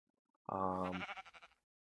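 A Minecraft sheep lets out a single close, clear bleat with a wavering, stepped tail as it fades, alone against silence.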